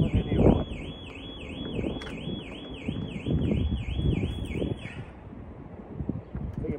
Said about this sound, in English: I have no idea what alarm's going on.